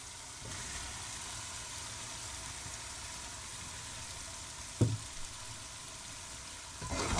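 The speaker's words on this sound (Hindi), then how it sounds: "अब हम इसमें चिकन शामिल करते हैं।" Chicken pieces going into spiced masala frying in a pan for a home-style kaddu chicken, a steady broadband sizzle with a brief clatter near the end as the meat drops in, no voices.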